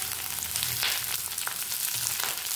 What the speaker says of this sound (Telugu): ఇలా పెద్ద సైజు కట్ చేసుకున్న ఉల్లిపాయలు వేసి 2 నిమిషాల పాటు ఫ్రై చేస్తామండి